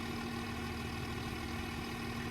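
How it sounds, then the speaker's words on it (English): A diesel train engine idles steadily at a platform in Train Simulator 20 on the Liverpool–Warrington route, a constant droning hum with a fixed low tone, unchanging and close, no talking. "We have to keep the engine running."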